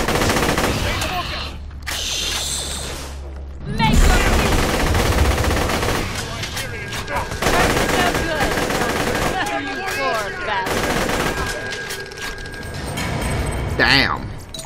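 Rapid bursts of gunfire from a weapon in the video game Borderlands: The Pre-Sequel, loud and close, with sustained automatic volleys and game effects, and someone talking over the shooting.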